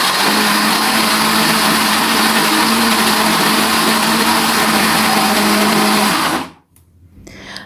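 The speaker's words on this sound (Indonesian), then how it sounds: "Untuk menghaluskannya di blender ini menggunakan sedikit tambahan minyak goreng" A blender runs steadily at full power, grinding candlenut, garlic, shallot and chili with a little frying oil into a paste, a loud continuous whir that cuts off abruptly near the end.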